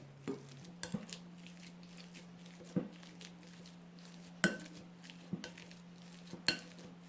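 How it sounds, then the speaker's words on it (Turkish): Boiled potatoes being mashed with a hand masher into puree in a pot, giving soft, irregular metallic knocks and clinks against the pot over a low steady hum, with no talking. "Şimdi de patateslerimizi bir eziciyle iyice ezelim ve püre haline getirelim."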